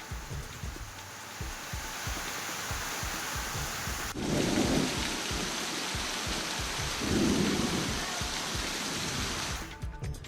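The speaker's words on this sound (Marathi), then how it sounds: "अर्ध्या तासापेक्षा अधिक काळ या भागात पाऊस कोसळला" Heavy unseasonal rain pours steadily during a thunderstorm with strong winds in Washim district, with two deep rumbles of thunder swelling partway through.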